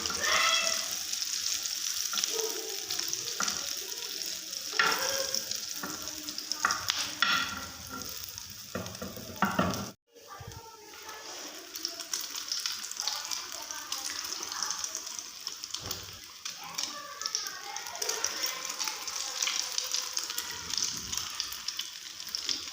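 Chicken shami kebabs frying in a pan, a continuous crackling sizzle interrupted by a short cut midway, with occasional scrapes and light handling sounds over the spitting oil.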